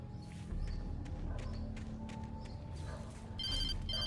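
A telephone rings in Alan Wake Remastered, repeated faint bell bursts at a quiet level over a low ambient hum, with a brighter, louder ring near the end.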